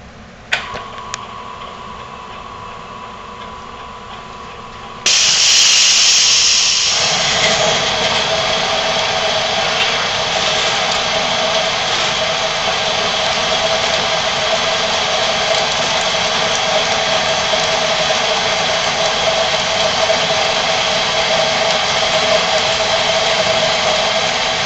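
An annular cutter bores a 2-inch hole through 3/4-inch steel plate, with a steady, loud grinding whir that starts abruptly after a few seconds of quieter machine hum and holds evenly, with no talking.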